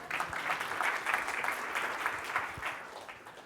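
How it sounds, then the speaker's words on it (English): Conference audience at a sales talk applauding: a steady, fairly soft patter of many hands clapping together, sustained for a few seconds from across a room, with no talk over it. "How about a little applause for choosing this place?"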